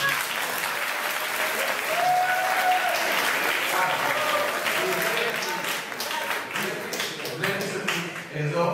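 Audience at a lecture in Edessa breaks into sustained, dense applause lasting several seconds, with talk mixed in beneath the clapping.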